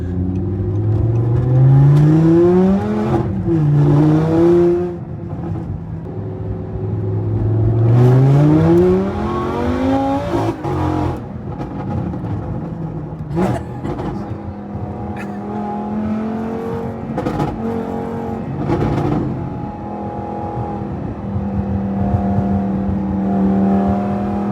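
A VF supercharged V10 Audi R8 revs and accelerates close by on a road, its engine rising and falling through repeated pulls and shifts with a whining, layered tone, joined by other cars driving.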